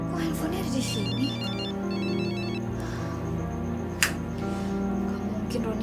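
A mobile phone left behind rings steadily in a room for several seconds, a repeating electronic ringtone with a faint pulsing pattern, heard alongside low background noise.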